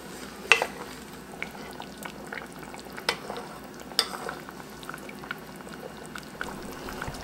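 Home canned potatoes boiling in a pot on a stove, with a steady bubbling simmer, occasional stirring clinks and sharp utensil knocks against the pot, close and moderately loud.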